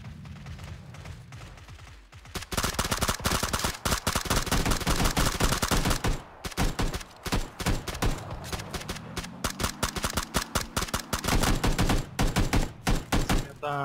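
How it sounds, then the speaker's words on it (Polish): Gunfire in PlayerUnknown's Battlegrounds: loud, close, rapid automatic bursts crackle in dense volleys, pause briefly, then resume in long stuttering strings of shots. "Kto to strzela?"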